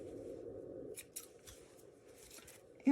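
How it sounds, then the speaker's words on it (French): Scissors snip loose sewing threads on a small handmade fabric pouch, giving a few short, close cuts in the first second followed by fainter snips, with a brief louder bump at the very end. "On coupe tous ces fils."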